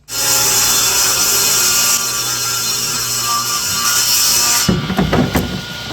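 A power saw rips a wide strip of wood for chair veneer, a loud, steady high whine through the cut that then winds down, with a few clatters and knocks as it stops, close and without talk.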